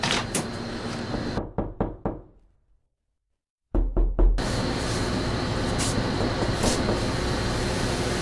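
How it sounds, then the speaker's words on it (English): Heavy banging knocks on a door land in loud clustered bursts, a run of sharp thuds before a brief silence, then another burst of pounding followed by steady rumbling background noise. "Somebody was banging on the door."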